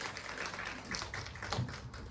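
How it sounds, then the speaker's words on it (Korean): A church congregation claps after a prayer, scattered hand claps with some louder single slaps, moderately faint and brief. "하나님 앞에 영광의 박수 올려드리겠습니다."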